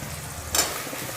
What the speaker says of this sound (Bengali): এবারে আমি টমেটো কুচানোটা দিয়ে দিচ্ছি।